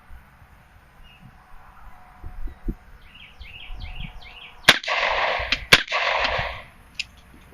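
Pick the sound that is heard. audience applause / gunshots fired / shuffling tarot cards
gunshots fired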